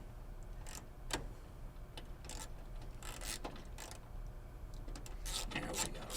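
Nuts being tightened by hand during a radio installation in a Chevrolet Nova, faint close clicks and ratcheting ticks scattered irregularly over quiet background noise.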